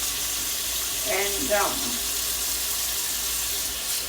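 Tap water runs steadily into a sink as cups are washed by hand, a constant hiss with a brief spoken word over it.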